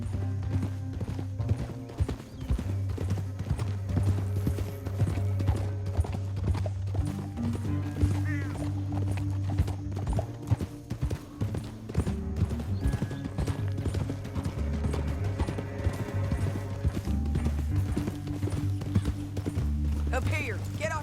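Video-game horses clip-clop along at a riding pace in the Beecher's Hope epilogue, steady rhythmic hoofbeats over a low droning score, with characters talking over them and an occasional whinny.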